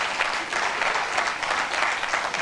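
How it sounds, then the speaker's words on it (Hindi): Dense, steady clapping from a large audience at a guru purnima sadhana camp, continuous and fairly loud throughout the short burst. "लेना चाहेंगे तालियां बजा दो"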